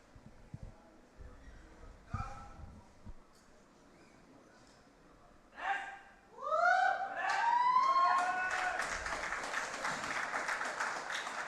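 A crowd at the Dubai 2023 World Para Powerlifting championships, men's up to 80 kg, breaks into applause and whistling cheers after a quiet stretch, swelling into loud, sustained clapping that carries on to the end.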